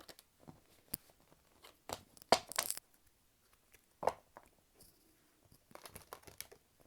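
Tarot cards being shuffled: quiet, scattered riffles, snaps and papery flicks in irregular bursts, close and soft, with near-silent gaps between them.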